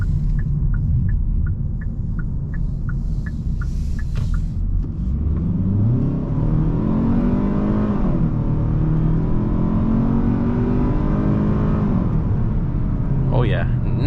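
A 2023 Hyundai Sonata picks up speed merging onto a highway, its engine rumble rising steadily in pitch under road and cabin noise, with a voice talking over it throughout.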